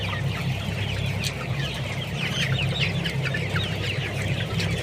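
Dense chorus of broiler chickens clucking and chirping inside a poultry house at about 25 days old, a continuous busy flock murmur heard near and fairly loud.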